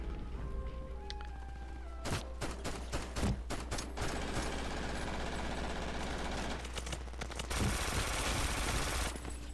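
Rockstedi Galactic gunfire in the shooter game Brink rattles as rapid automatic bursts, several fast volleys of sharp shots stacked over a steady low game drone, with a longer sustained burst near the end.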